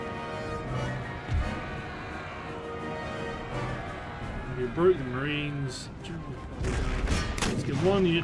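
Artillery and musket volleys in an Empire: Total War battle, with scattered pops and muffled booms rolling under continuous talking and louder crackling fire near the end.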